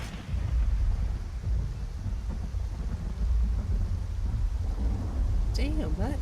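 Heavy rumbling thunder and rain in a stormy Skyrim game world, with a continuous loud low roll throughout and a voice speaking briefly near the end.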